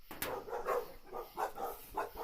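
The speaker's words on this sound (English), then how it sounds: "so you don't hear the dogs barking" Several dogs barking in a series of short, regular bursts at a moderate distance, with no talk over them; heard outdoors where a 1964 Buick is being worked on.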